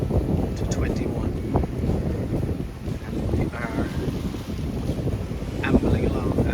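Sailing in a 15 to 21 knot offshore breeze off Santa Eulalia, with steady, gusty wind rumble over the microphone and rushing water along the hull, and a voice speaking through it.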